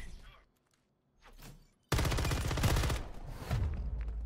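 Heavy gunfire in a shooter video game, starting with faint scattered shots and then bursting into loud sustained rapid fire that continues to the end, with brief voices mixed in.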